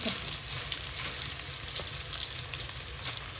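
A small onion sizzling in hot oil, a steady dense frying hiss with faint crackles and occasional light stirring, continuous and close, with no one talking.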